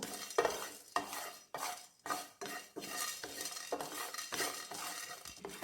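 Cumin seeds and black pepper dry-roasting in a pan, stirred with a spoon in a steady series of scraping, rattling strokes roughly every half second, close and fairly quiet with no voices.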